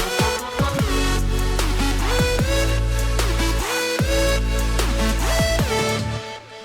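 A loud electronic music drop from a track pounds with heavy sub-bass kicks and repeated downward-pitching synth sweeps in a driving, even rhythm before fading slightly at the end.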